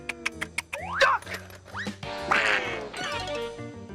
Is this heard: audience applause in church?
no